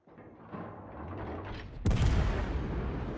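Warship secondary guns firing aboard the Italian cruiser Napoli in World of Warships: a low rumble builds, then a sharp loud boom hits and rolls into a sustained rumbling tail.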